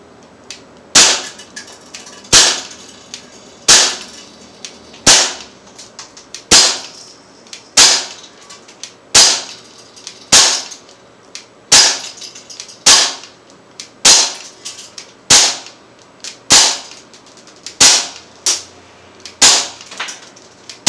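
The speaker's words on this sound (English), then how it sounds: "I'm just going to unload them into my pellet trap" Umarex Smith & Wesson M&P 40 .177 pellet pistol fired into a pellet trap from about ten feet: a long series of about nineteen sharp, loud cracks at a steady, unhurried pace of roughly one shot each second, with no talking.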